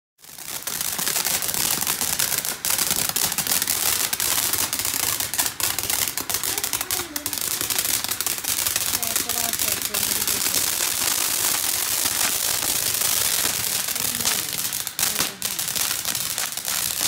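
Dense, continuous crackling and popping fireworks at a birthday celebration, loud and sustained throughout with rapid overlapping bursts and occasional sharper bangs.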